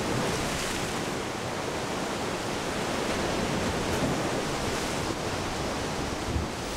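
Surf pounding against a rocky shoreline where adult marine iguanas cling with sharp claws, a steady, dense roar of breaking waves filling the whole stretch with no voices.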